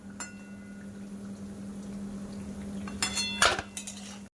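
Khaja sweets made from flour and sugar sizzle steadily in hot oil, a constant close frying hiss broken near the end by a few sharp clinks of a utensil against the pan.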